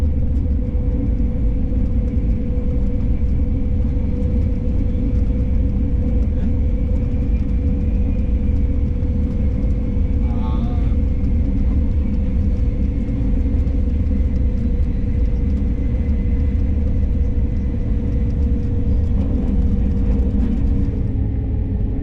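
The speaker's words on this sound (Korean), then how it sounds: "잠시 후 열차는 금호터널을 지나 경상북도 칠곡군에 진입합니다." Continuous low rumble and steady whine of a fast-moving KTX high-speed train, constant and droning throughout with no voices.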